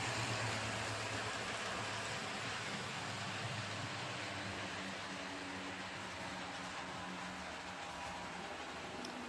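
Broadway Limited Paragon 2 PRR Centipede model locomotives run at full throttle on track without a cork bed, giving a steady, fairly quiet mechanical drone with a low hum that stays even throughout, with no talking.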